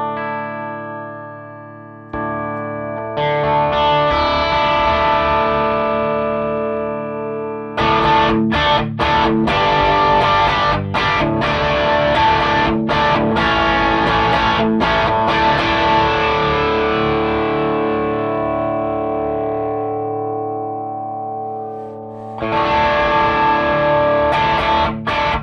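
An electric guitar plays a clean tone through a Wampler Cranked OD Limited Edition pedal. Sustained chords ring out and fade, freshly struck several times, loud and alone with no talking.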